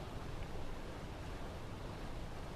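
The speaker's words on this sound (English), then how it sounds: "Alright, I hear the water." Steady rushing water ambience in a video game, a constant, even wash of noise like surf or a running stream, with no pauses, no talking and no other distinct sounds.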